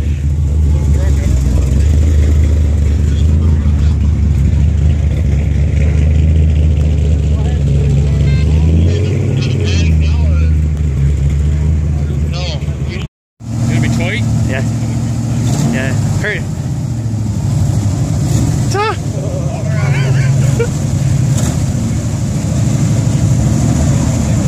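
A classic car idling steadily at a car show, its low engine rumble running continuously and loudly, with people talking nearby and a brief cutout partway through.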